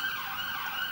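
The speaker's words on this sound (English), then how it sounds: "God, how many ambulances are around here today?" An ambulance siren wails outside in a steady, continuous tone, fairly loud and sustained with no speech over it.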